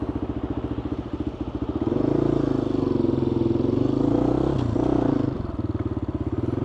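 A GPX FSE250e motorcycle engine runs steadily on a road test, then revs up loudly and holds a strong drone for about three seconds before dropping back to a pulsing idle-like throb.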